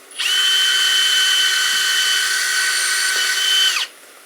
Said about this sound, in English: This is just a common drill. It's got about a 3/16 bit in it.